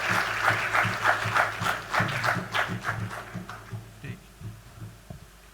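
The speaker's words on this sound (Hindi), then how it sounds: "ताली बजा दो अपने लिए।" Students at a youth retreat thanksgiving ceremony at St. Xavier's College clap together in a steady rhythmic beat, roughly four claps a second, which gradually loosens and fades toward the end.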